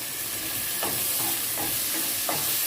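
Two medium chopped tomatoes sizzling in a hot pan with ginger-garlic masala, steady frying hiss with a few scraping stirs of a spoon, close and alone.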